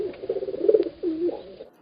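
A pigeon coos nearby, giving a soft, throaty warble that rises and falls in two short phrases.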